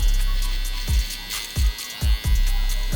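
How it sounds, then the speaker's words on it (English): A Wahl electric hair trimmer runs with a steady mechanical hum, its buzzing pitch dipping in several short bursts as it works through hair, close and loud with no speech. "now we're gonna take our trimmer,"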